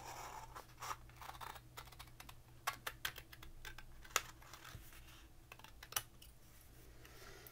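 Thick cardstock paper for Halloween paper-craft decorations is cut in a quiet, close series of crisp snips and clicks, irregular in rhythm, with light scratching between cuts.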